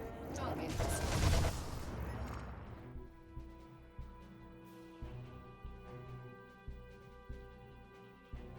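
Pulse lasers fire repeatedly from an Asp Scout ship in the space combat game Elite: Dangerous, a dense burst of sharp blasts at first, then evenly spaced thudding shots over a steady low engine hum, fairly faint overall.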